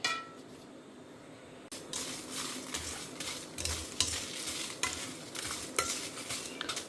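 Mustard seeds, fenugreek, peppercorns and other spices are dry-roasted together in a hot pan. After a quiet start comes a sudden clatter, then steady stirring, with a faint crackle and spoon scrapes and knocks against the metal pan.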